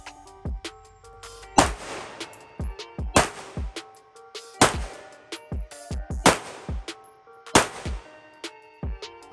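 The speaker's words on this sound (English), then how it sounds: "Glock 17 at about 15 yards" A Glock 17 9mm pistol fired at about 15 yards on a range, giving a series of roughly a dozen sharp cracks in irregular pairs and clusters, each with a short booming tail.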